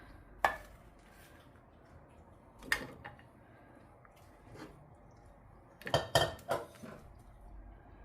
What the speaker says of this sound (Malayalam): ഇനി ഞാനിത് ഈ കുമ്പളങ്ങ ഈ പാനിലേക്ക് ഇട്ട് കൊടുക്കുകയാണ്.